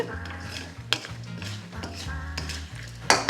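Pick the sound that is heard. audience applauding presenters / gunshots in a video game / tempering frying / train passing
tempering frying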